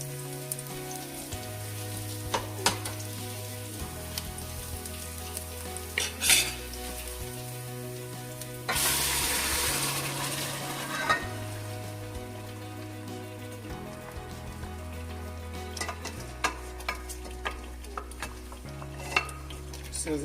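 Pepper sauce for Nigerian jollof rice frying and being stirred in a pot, a steady sizzle with repeated scraping strokes of the spoon and occasional clinks, a louder burst of sizzling midway, with background music and no talking.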